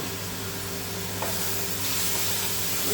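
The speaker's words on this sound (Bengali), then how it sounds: "এটাকে আমি আস্তে আস্তে জল দিয়ে দিয়ে কষাতে থাকি" Chicken curry masala sautéing in a pan with water added, a continuous close sizzle and hiss, swelling slightly louder toward the end, with a faint stir stroke partway through.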